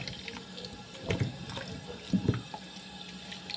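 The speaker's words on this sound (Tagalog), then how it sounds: "kailangan ko siya buhusan ng tubig" Tap water runs steadily and splashes onto grapes in a sink, with a couple of louder spattering bursts.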